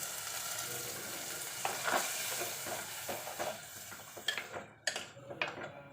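Okra and a ground coconut-yogurt paste being stirred together in a hot pan: a soft sizzle under irregular scraping and clicking strokes of a spoon that become sparser toward the end; no voices.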